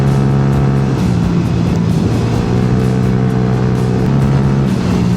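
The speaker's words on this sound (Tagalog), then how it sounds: "Ang bibilis ng motor nila." Motorcycles on a charity group ride run fast, their engines droning loud and close with steady rising and falling tones as they shift through gears.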